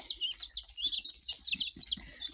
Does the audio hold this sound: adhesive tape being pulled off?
no